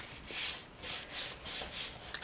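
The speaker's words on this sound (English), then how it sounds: "you're going to fold and burnish all of your scores" Scored paper is folded and rubbed flat with a burnishing tool in a series of soft, quiet swishing strokes, about four in a row, close up.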